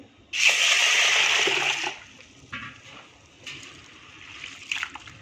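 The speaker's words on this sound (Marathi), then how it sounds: "असं थोडंसं हातावरती चोळून आपल्याला साबुदाणा धुवून घ्यायचा आहे" Water pours in a strong gush into a vessel, then quieter sloshing and splashing as sago pearls are rubbed and rinsed by hand nearby.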